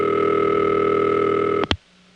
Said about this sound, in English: Let's just listen to a ringtone.